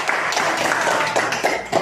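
Children in a classroom lesson clap together, a brief scattered round of applause with uneven hand claps filling the room.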